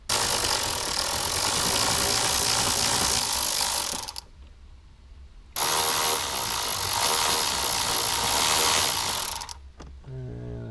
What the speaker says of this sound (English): let's go ahead and get these two T20 screws out of here